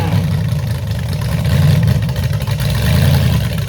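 A 1934 Ford steel hot rod at a car show awards event runs at a steady, loud idle, a deep continuous rumble with a slight lumpy pulse and no break.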